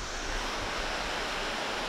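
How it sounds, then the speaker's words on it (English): A loud, powerful mountain river rushes in a constant broadband roar near Pavey Ark, close and steady with no breaks or voices over it. "the noise the river's making is so loud"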